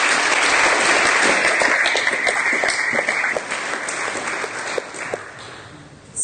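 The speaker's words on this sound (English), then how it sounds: "let's give them a big round of applause" Audience applause after a talk on cryptocurrency and blockchain, a dense wash of clapping from a crowd that holds steady for several seconds, then thins toward the end.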